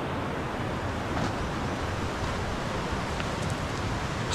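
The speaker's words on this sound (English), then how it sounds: "The waterfall just here." Kisdon Force waterfall on the Herriot Way, a steady broadband roar of rushing water, loud and continuous with no pauses, heard close by without talk.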